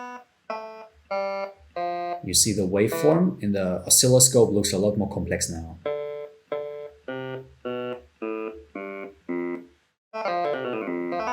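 A web audio synthesizer plays a custom piano-like periodic wave in a series of short, evenly spaced synthetic notes, interrupted midway by a stretch of talking before the tones resume.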